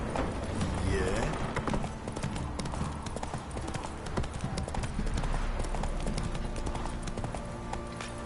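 Geralt's horse Roach gallops in The Witcher 3 with continuous rhythmic hoofbeats, while a voice urges the horse on over game music.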